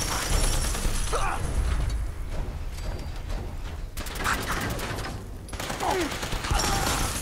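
Bursts of video-game gunfire from Fallout 4 crackle in rapid volleys, pausing and resuming, with a brief spoken word and mechanical clicks between shots.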